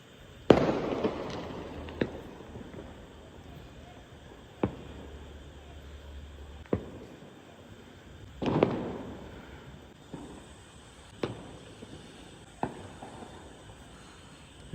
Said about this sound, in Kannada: ಸೊ ಚನ್ನರಾಯಪಟ್ಟಣದವರು ಪಟಾಕಿ ಹೊಡಿತಾರೆ, ಫುಲ್ಲು ಸ್ಕೈ ರಾಕೆಟ್ ಥರ ಅಂತ ಮೇಲೆ ಹೋಗಿದ್ದೆ.